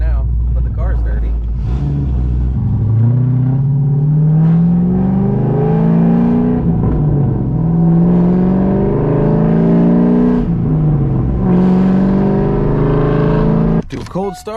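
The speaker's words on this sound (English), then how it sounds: "Do a cold start against the wall" A lowered Chevrolet Corvette with an aftermarket cam starts cold and rumbles loudly up close, its revs rising and settling in waves while someone talks over the engine; a sharp clatter closes the clip.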